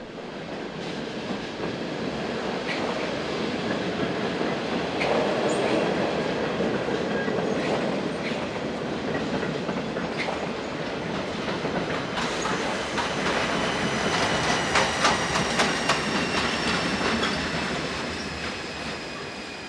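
Passenger train departing a station toward Solothurn, a continuous rolling rumble of wheels on rails with clickety-clack and rising wheel squeal in the latter half, fairly distant and steady.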